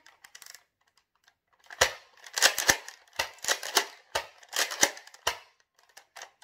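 An X-Shot toy blaster's plastic slide is racked back and forward repeatedly, giving a run of sharp, close clicks and clacks in quick bursts with short pauses between, no talking.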